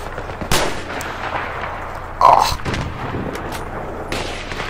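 Gunfire in the video game Battlefield 3, heard as a few sharp shots spaced apart, one louder burst near the middle, over a steady game background.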